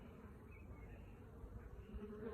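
A dense, steady buzzing of many honey bees at an opened hive during an inspection, a continuous droning hum with no voices.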